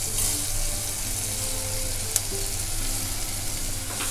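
Soaked, washed rice sizzles as it is sautéed in a pan for moong dal khichdi, a steady close frying hiss with a faint stirring clink.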